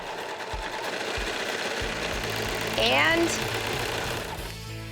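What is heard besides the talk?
serger overlock machine sewing a fabric scrap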